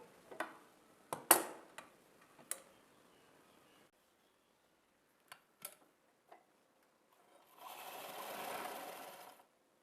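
A sewing machine stitches the folded edge of a saree fall, a few short clicks and bursts followed by a steady run of stitching near the end, close and fairly quiet with no talk.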